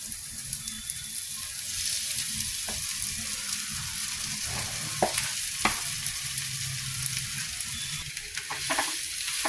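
Potatoes fry in a spiced masala in a pan, a continuous close sizzle broken by scraping stirs and occasional spoon knocks against the metal.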